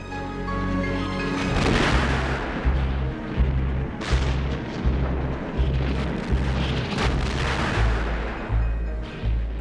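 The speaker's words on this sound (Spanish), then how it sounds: "los buques de la clase Kaiser, por delante de nosotros, disparaban sin cesar" Naval artillery from Kaiser-class battleships firing steadily: a dense, roaring barrage of heavy booms and rumbling blasts, loud and continuous throughout with a repeating low pulse, no talk.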